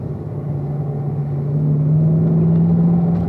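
A car lapping a race track under steady throttle, its engine a continuous close drone with a humming tone that swells slightly louder partway through.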